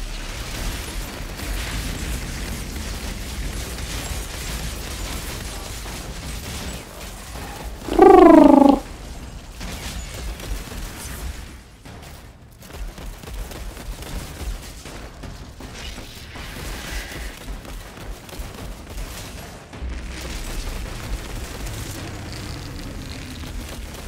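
Shotgun blast in the game Outriders Worldslayer, a single loud, sharp shot standing out over continuous game mechanisms and ambient noise.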